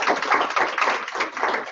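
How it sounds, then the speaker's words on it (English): University lecture audience giving the guest speaker another round of applause: a short burst of many hands clapping in a steady patter, moderately loud, with no voices. "Can we give Stan another round of applause?"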